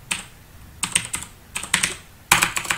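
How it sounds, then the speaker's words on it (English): Bursts of quick clicky keystrokes on a computer keyboard as a command is typed, with several short clusters of taps close by and no voice. "you just want to type in this command"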